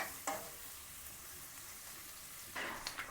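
Onions for an alu palya potato curry sizzle softly in oil in a pan, a steady low hiss throughout, with a brief utensil clink near the start and a few stirring scrapes toward the end.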